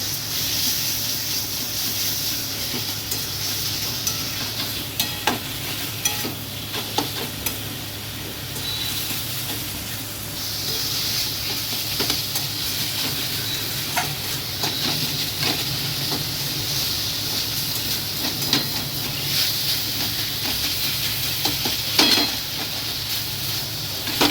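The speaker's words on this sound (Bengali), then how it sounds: "এবার মাংস কিমাটা দিয়ে দেবো। ভালো করে নাড়াচাড়া করে নিতে হবে।" Minced chicken sizzles and hisses steadily in a pan while being stirred, with intermittent scraping and clinking of the spatula against the pan, close and continuous for the whole stretch.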